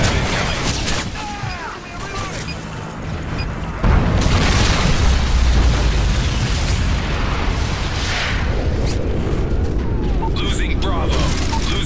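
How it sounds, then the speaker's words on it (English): The Modern Warfare 3 MOAB bomb goes off with a massive boom midway, giving way to a long, heavy rumbling roar, while game effects and radio voices chatter before and through it. "Friendly Moab incoming"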